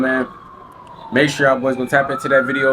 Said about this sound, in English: Sorry about the sirens right now.